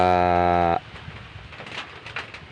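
A goat gives one loud, drawn-out bleat near a farm hut. The call lasts under a second and then stops, leaving quiet outdoor background noise.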